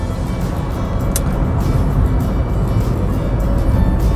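A manual-transmission car engine accelerating during a driving test, heard as a continuous low rumble from inside the cabin that stays steady and grows slightly louder toward the end, with no talk over it.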